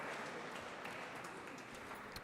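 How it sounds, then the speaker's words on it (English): Round of applause at a student parliament gathering welcoming a guest speaker, a faint, distant, continuous patter of many hands clapping. "Please put your hands together and welcome Dr."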